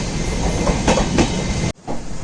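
The Mandovi Express passenger train pulls out of Sindhudurg station, a steady rumble with rhythmic wheel clatter close by, ending in a sudden dropout.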